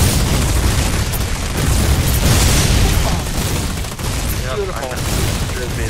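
A Foxhole mortar barrage fires during a battle, making a dense, continuous roar of overlapping booms and blasts, with players' voices heard over it.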